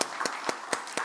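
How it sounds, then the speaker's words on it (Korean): A church congregation at a Sunday worship service applauding in a large sanctuary, heard as a few evenly spaced, sharp clap-like bursts over a soft, diffuse wash of room sound. "다시 한번 우리 교회를 주신 하나님께 박수 올리겠습니다"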